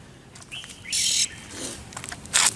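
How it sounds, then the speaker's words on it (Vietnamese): Unknown wild bird caught in a bulbul trap in Vinh Phuc, Vietnam, giving a few short, bright chirps in separate bursts, close and moderately loud over faint background rustle. "Chim lạ, chim lạ."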